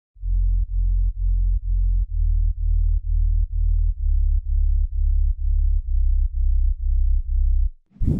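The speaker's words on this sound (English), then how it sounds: "Add that sub bass." A deep, steady sub bass in a tech house track made in FL Studio pulses in a repeating pattern of short sustained notes, loud and alone, ending with a brief bright swish.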